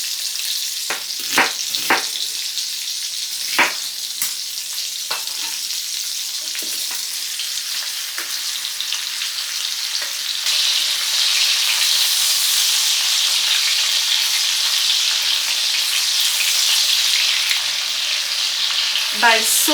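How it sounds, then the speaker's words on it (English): Palm oil frying with chunks of saltfish and onions for a Ghanaian gari fortor, a steady loud sizzle and hiss throughout with occasional utensil clinks early on, growing denser and more intense in the second half. "I always fry my palm oil with saltfish and onions to give it a good aroma."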